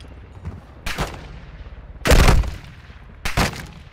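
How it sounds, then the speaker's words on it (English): Turret gunfire in The Division 2 comes in three loud automatic bursts separated by short gaps, the middle burst longest and heaviest, over a steady background rumble. "Turret, turret."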